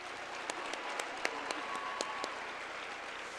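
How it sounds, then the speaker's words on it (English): Audience applause at a talent pageant for three students, faint distant clapping from a crowd with a few sharper individual claps standing out at a steady rhythm, no voices over it. "Let's give them all a big round of applause."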